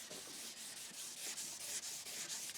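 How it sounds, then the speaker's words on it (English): Rhythmic back-and-forth wet sanding strokes scrape close by on a yellowed plastic headlight lens of a Renault Clio, a soft hissing rub repeating several times per second. "a lot less sort of yellow residue accumulating on the lamp as I'm sanding it off"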